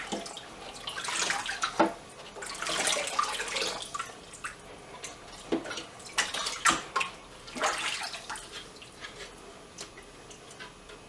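Aquarium filter parts from a Fluval 406 canister filter are rinsed under running water, a loud bathtub-like gush in uneven bursts with splashes and clicks as pieces are handled, and no one speaking.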